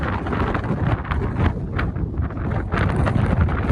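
Strong wind buffets the microphone on an exposed Lake District fell walk near Kentmere Pike, a loud continuous roar with rumbling gusts throughout and no talk.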